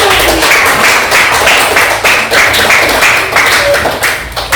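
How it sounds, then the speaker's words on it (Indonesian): A school class clapping hands in a steady, rhythmic beat, loud and close, with a few voices faintly mixed in. "mari kita kasih tepuk tangan yang lagi"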